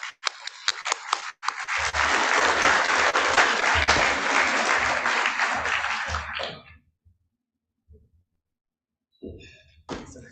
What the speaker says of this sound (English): please join me in giving a warm round of applause to welcome the Honorable Secretary of Finance